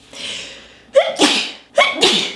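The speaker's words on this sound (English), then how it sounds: "what I have to do now is sneeze." Two sharp sneezes in quick succession, each preceded by a brief breathy intake, close and loud.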